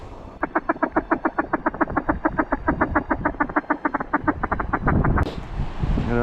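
A duck quacking during a duck hunt, a rapid run of about thirty loud, evenly spaced nasal quacks close by, ending abruptly.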